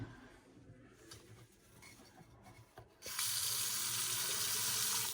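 Hot water tap turned on into a sink during a building walk-through: faint handling and rubbing noises give way to a loud, steady gush of running water that continues to the end.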